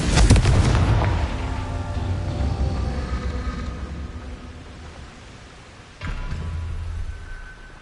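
A fiery Confringo spell explodes in the game Hogwarts Legacy with a loud, close boom that trails into a long rumbling roar. A second blast bursts in several seconds later.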